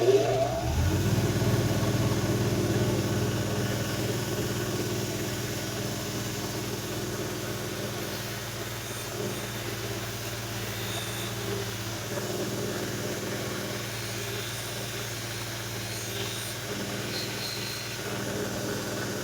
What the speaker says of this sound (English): This is the 200 grit Scotch-Brite wheel.